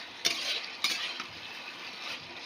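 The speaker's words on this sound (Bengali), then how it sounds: "দিয়ে দিলাম মাছের মাথার ভেজে রাখাটা মাছের মাথাটা দিয়ে এর সাথে একটু ভালো করে কষিয়ে নেব" Fried fish head sautéed with ginger-cumin paste in a pan for moong dal, a quiet hissing sizzle with two sharp scraping stirs near the start, close and soft with no voices.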